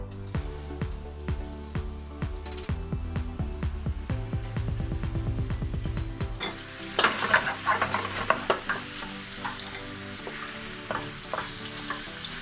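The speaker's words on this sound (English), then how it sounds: "Okay, the oil is hot. We're sending meat." Beef hits hot oil in a pan for beef stroganoff, first with a series of distinct clacks and taps as pieces are dropped in, then a bright crackling sizzle with stirring, close and fairly quiet.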